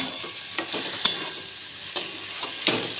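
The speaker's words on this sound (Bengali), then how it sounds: "পটল দিয়ে একটু কষিয়ে নেব।" Fried pointed gourd pieces stirred into a spice masala in a pan, giving a steady close sizzle with sharp spoon scrapes roughly every half to one second, no talking.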